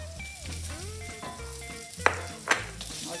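Garlic fries in a pan for a South Indian chutney, giving a continuous close sizzle broken by two sharp spatula scrapes as it is stirred, with soft background tones throughout.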